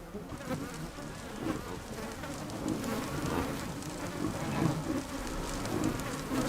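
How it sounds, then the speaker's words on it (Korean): A swarm of mosquitoes in the Alaskan tundra summer buzzes in a dense, continuous whine, close and steady throughout without talk. "툰드라의 여름은 의외로 모기가 많다."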